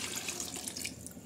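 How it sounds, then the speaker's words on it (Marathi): Water poured into a pot while cooking simple biryani, a short continuous splashing gush heard close and alone. "थोडं पाणी टाकायचं"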